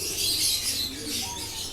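Soft cooing of Rampuri pigeons rises and falls over a steady background hiss, with a few brief chirps mixed in, close and moderately quiet.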